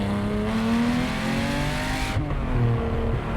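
A Porsche 911R with a lightweight flywheel revs hard on a test drive, the engine note climbing loudly from inside the car before cutting off and rising again.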